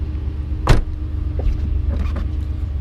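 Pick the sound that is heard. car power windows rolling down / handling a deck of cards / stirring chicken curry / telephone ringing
car power windows rolling down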